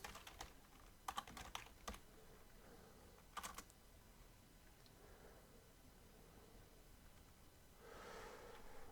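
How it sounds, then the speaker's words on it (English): Typing on a computer keyboard in short bursts of quick clicks near the start and around 3.5 seconds, fairly faint against a steady background hiss, with a soft breath or rustle toward the end. "my typing is awful today, I'm sorry"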